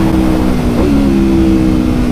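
Aprilia RSV4 1100 Factory V4 superbike engine revving, a steady loud near drone with a brief rise in pitch partway through, no talking.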